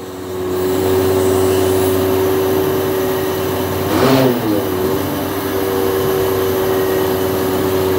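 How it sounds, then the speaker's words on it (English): A mobile crane's boom retracts with a loud, steady hydraulic and engine drone, a brief swell and whine midway, then a continuous hum. "So now I'm going to start sucking the boom in."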